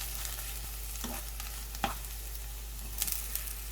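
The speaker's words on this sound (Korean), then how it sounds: "썰어 놓은 어묵을 넣고 볶아줍니다" Sliced fish cake stir-fried in a pan with garlic, a steady close sizzle throughout with a few sharp scraping clicks of a utensil against the pan.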